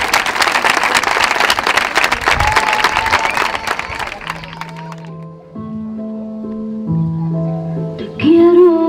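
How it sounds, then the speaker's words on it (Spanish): Audience clapping for a rhythmic gymnastics camp exhibition fills the first few seconds, then fades out as a song with sustained tones begins. "Paula Gómez, un fuerte aplauso."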